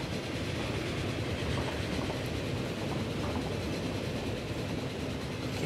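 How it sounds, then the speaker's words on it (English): Passenger train on the Washington to Toronto line in the game Transport Fever rumbles along continuously, a dense steady rolling roar with faint clickety-clack, unchanging in loudness and heard alone without talk. "There's another Washington train."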